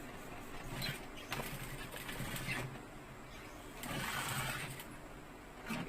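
A sewing machine stitching the inner part of a bag pocket, giving a steady mechanical whir in fairly faint bursts, with short pauses between runs of stitching.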